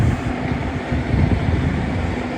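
A steady, rumbling tractor engine drones continuously with a low, throaty hum, close by and fairly loud, with no voices over it.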